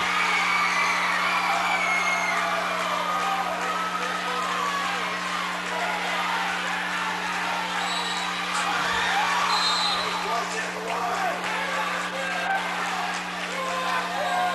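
Tense crowd at a high school regional wrestling tournament in Kansas, yelling and shouting encouragement amid a steady murmur over a constant gym hum, with scattered whoops rising throughout.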